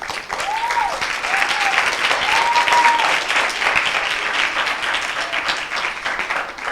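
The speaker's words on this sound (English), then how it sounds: "let's give a big round of applause to our younger crowd." An audience at a Parsippany Mandir Republic Day cultural program claps loudly and steadily for the children, with a few whistles rising above the sustained applause.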